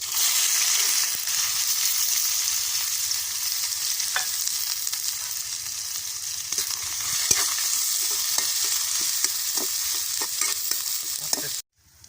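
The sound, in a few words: onions added to a pan and fried, stirring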